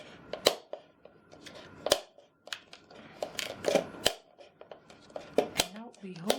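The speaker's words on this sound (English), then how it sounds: "I'm going to cut out with some scissors." Scissors snipping through a children's paper cone for a budget Christmas decoration, a run of sharp close clicks and crunches in uneven bursts, with a voice talking over parts of it.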